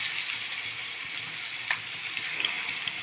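Fish sizzling steadily in a pan of hot oil, a soft continuous hiss with a few faint pops and light clinks, no talking.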